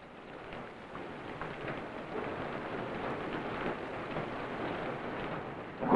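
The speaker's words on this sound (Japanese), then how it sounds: "最後の決戦の日は雨だった。" Steady heavy rain pouring down in a 1954 samurai film trailer, a dense continuous hiss with low rumbling thunder rolling underneath, no voices.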